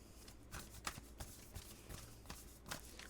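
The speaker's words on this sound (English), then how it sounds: "My hands are hurting, actually, from shuffling." Tarot cards shuffled by hand in quick, crisp riffling bursts, a few separate flurries of papery flicks and taps close up against a quiet room.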